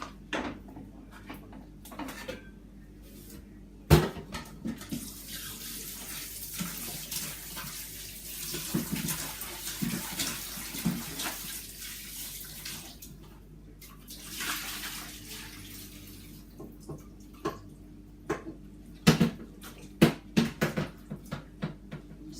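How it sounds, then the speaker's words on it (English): Raw chicken is washed under a running kitchen tap in a sink, with a steady gush of water and splashing, occasional knocks of the bowl or sink, and a burst of clattering handling near the end. "Then we're going to wash our chicken really quick."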